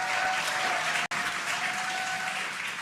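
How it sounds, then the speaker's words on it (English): A crowd cheers and applauds steadily as the SpaceX Crew-9 Dragon Freedom capsule descends toward splashdown, a dense, even wash of sound broken by one very brief dropout. "You can hear the crowd here."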